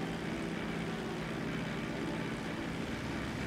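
Small propeller airplane engine in GTA Online, a steady droning hum with a low buzzing tone that holds even and continuous throughout, moderately loud and without speech.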